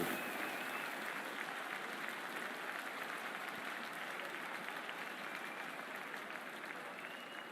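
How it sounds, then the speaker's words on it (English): A stadium cricket crowd in the video game Cricket 24 applauds at an IPL match between RCB and CSK, with dense, continuous clapping and crowd roar holding steady throughout. "We're about to get underway and already the crowd is up and about"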